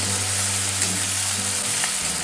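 Ginger paste frying and being stirred in a pan for a paneer and potato curry, a dense, loud, continuous sizzle heard close up with faint scraping, no voices.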